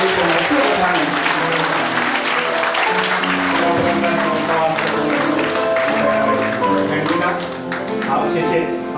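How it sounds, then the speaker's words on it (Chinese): Sustained crowd applause at a church anniversary celebration service, dense steady clapping filling the whole stretch with music or voices faintly underneath, dipping slightly near the end. "我们用最大的掌声来谢谢他们"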